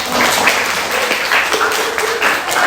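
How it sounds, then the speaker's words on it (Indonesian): Dense, steady applause from a classroom group clapping together, loud and continuous throughout with no speech. "Silakan beri tepuk tangan."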